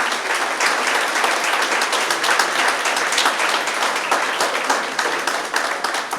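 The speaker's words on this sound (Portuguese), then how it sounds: "Então dá uma salva de palmas para Jesus, que Ele merece." A church congregation gives a long round of applause for Jesus during a sermon, the dense clapping steady and loud from start to finish.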